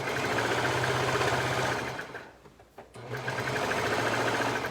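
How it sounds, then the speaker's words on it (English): A serger overlocks the edge of a sewn fabric piece, running steadily all the way around with a close, loud rhythmic whir that drops out briefly for a second or so mid-clip before resuming. "a serger to make it cleaner"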